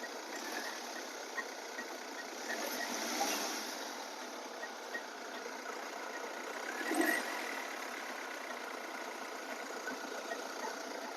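A 2010 Hyundai i20 car engine runs at a steady mid-level hum, swelling briefly twice as it is revved, with no voices over it.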